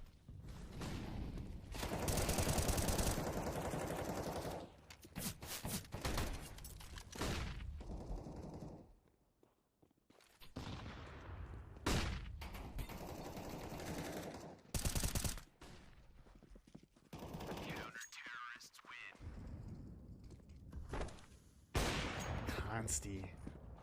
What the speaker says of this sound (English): nice shot on lower, good boost from his teammate Pluto as well